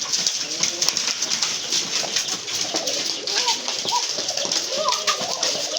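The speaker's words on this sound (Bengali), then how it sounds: "দেখছেন এটা হয় কিন্তু টোটালি আপনার ইন্ডিয়ান লোটন, খুব সুন্দর লুটে থাকে।" Indian Lotan pigeons coo in soft, repeated throaty calls amid a busy pigeon market, close and layered over steady background chatter and people talking.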